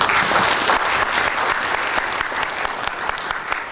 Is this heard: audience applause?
yes